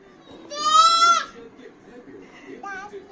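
A small child imitates a goat bleating with a drawn-out wavering maa sound, close and clear, followed by a brief quieter second bleat.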